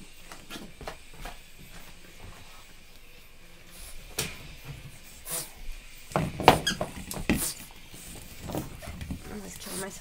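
French Bulldog puppies play with a squeaky dog toy, giving scattered high squeaks and a brief flurry of louder squeaking and scuffling midway, with soft rustling and faint voices throughout.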